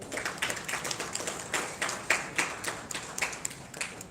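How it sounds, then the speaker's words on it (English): A modest round of clapping from the audience at an award ceremony of the 14th Dada Saheb Phalke Film Festival in New Delhi, the individual claps distinct and uneven, moderately loud and close, with no talking. "Please have a big round of applause."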